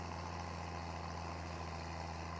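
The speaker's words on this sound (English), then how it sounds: "I'm guessing your tractor is as battered as mine, but it seems to be running okay." Steady low engine drone of a battered tractor running in Farming Simulator 22, a constant idling hum with no breaks, heard alone at a moderate, even level.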